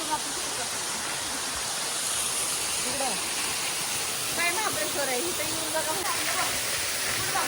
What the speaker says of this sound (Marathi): तर सुंदर असा धबधबा आहे